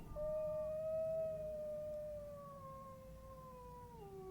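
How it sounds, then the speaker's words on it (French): A wolf howls in the distance, a long, smooth, slowly falling tone held for several seconds over a soft background hum. "Et au loin, tu entends le hurlement d'un loup."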